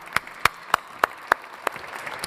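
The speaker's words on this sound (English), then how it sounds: "Please give her a big round of applause." An audience at a magic stage show greets a volunteer with applause, heard as six sharp, evenly spaced claps, close and distinct, with a faint crowd murmur behind them.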